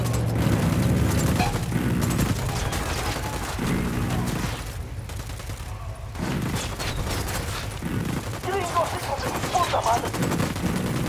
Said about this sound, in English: I'm opening fire on these shitheads.